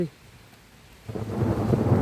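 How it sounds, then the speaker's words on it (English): A low rumble of thunder builds with a rushing wash of heavy rain, starting quiet then swelling loud after a second. "Rain's coming down faster and again."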